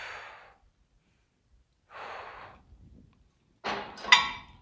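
Audible breaths while holding a Pallof press: a soft exhale, a second slower breath after a pause, then a sharper, heavier sigh-like exhale at the end, close to the microphone with silence between.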